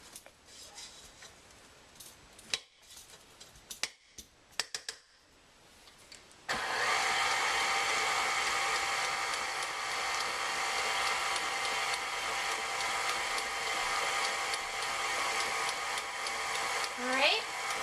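An electric stand mixer whirs loudly and continuously as it beats pound cake batter, a steady close motor drone that starts abruptly after some clinking and brief talk.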